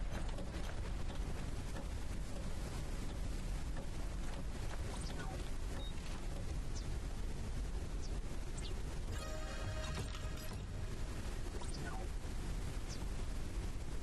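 An airship engine runs in the game Forever Skies, a constant loud mechanical drone with a windy, rushing texture and a few faint clicks and rattles over it.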